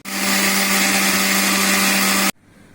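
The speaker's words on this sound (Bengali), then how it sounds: "এখন আমি ব্লেন্ডারে গুঁড়া করছি।" A blender grinds roasted panch phoron and dried chillies in a loud, steady, close whir. The motor stops sharply just before the end, leaving near quiet.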